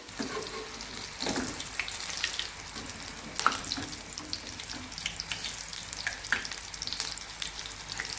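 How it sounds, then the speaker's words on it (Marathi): Leaf bhaji fritters sizzle steadily in hot oil close up, a soft continuous crackle broken by occasional sharper pops and splashes. "बुडवायचं, तळायचं."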